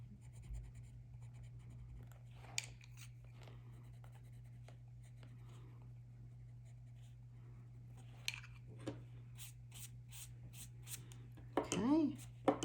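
Colored pencil burnishing on paper while coloring a mandala page, with soft, scratchy rubbing strokes in irregular bursts over a steady low hum, plus a few sharper taps and scrapes near the end.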